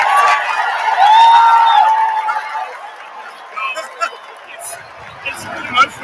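Football supporters at a game fill the air with crowd hubbub and scattered cheering, a broad wash of chatter with a few louder calls rising and falling, while a close voice talks over it.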